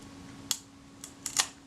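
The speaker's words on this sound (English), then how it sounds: "I'm listening to see if I hear the shutter cocking action complete before the film advance" Shutter cocking and film advance on a Kodak Retina IIIc rangefinder camera: a few small, sharp mechanical clicks close by in a quiet room, one single click followed after a pause by a quick cluster of three.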